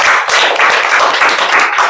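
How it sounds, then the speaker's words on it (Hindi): Sustained applause and clapping from an audience at a school Teacher's Day program in honour of Jyotiba Phule, a dense, steady wash of hand claps lasting the full two seconds with no talk over it. "एक जोरदार ताली बजाएं।"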